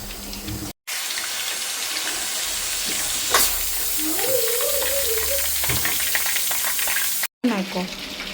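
Garlic kebab pieces frying in a home kitchen pan, a steady loud sizzle running throughout with faint stirring scrapes, and brief gaps near the start and end.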